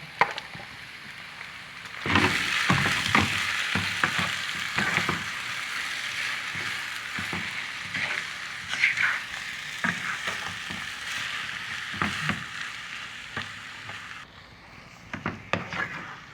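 Onions sizzling and frying in a pan, a steady crackle with occasional stirring clinks and scrapes throughout, close and fairly loud with no talk.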